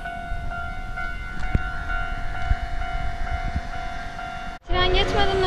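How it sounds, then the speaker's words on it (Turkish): A train approaching a railway crossing in Japan, with a steady crossing alarm ringing throughout and a low rumble underneath; near the end a sudden loud, dense whoosh and rattle as the train rushes past close by. "Şimdi tren geliyor."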